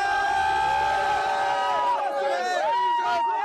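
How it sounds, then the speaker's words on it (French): Agitated crowd of immigrant workers protesting at a port, a dense mass of shouting and chanting voices with rising and falling cries, loud and close, thinning slightly toward the end. "La foule est à cran, les esprits s'échauffent"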